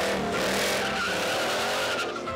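Narcos' sports cars skid with tire squeal on a racing circuit near Culiacán, Sinaloa, a loud sustained screech with engine roar throughout.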